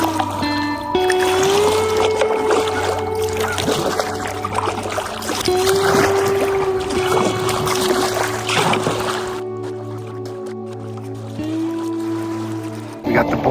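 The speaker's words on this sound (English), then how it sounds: "I'm going to kayak back right now" A kayak is paddled across a Midwestern lake in the evening, with soft rhythmic paddle strokes and water trickling past the hull, close by, under a voice for much of the time.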